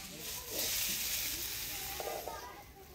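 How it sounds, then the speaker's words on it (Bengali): Vegetables with peas fry in a pan, giving a steady close hiss and sizzle across the whole span, with a few brief utensil clinks toward the end. "সবজিটা ভাজি নিলাম, এবার নামিয়ে দিব।"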